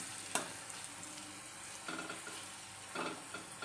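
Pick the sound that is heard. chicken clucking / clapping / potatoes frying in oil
potatoes frying in oil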